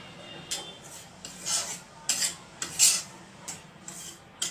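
A spoon scrapes and clinks against a pan as semolina flour roasts in ghee over low heat, with a series of short bright scraping strokes in a fairly steady rhythm, close and moderately quiet, with no talking.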